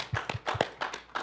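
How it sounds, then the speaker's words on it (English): A small gathering at a church leadership training and charge conference claps briefly. A handful of distinct, sparse handclaps sounds close by, in a loose uneven rhythm. "let's give these folks a round of applause"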